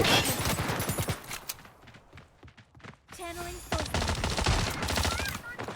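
Gunfire in the shooter game Fate Trigger, irregular bursts of shots at close range in the opening second and again in the final seconds, with a quieter gap between and game sounds throughout.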